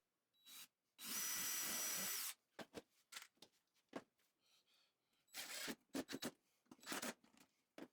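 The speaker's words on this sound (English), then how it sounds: "Flip it over and carefully pre-drill and screw it from the top" A power drill whirs in one sustained burst driving a screw into 2x4 wood, followed by scattered clicks, knocks and brief tool noises nearby.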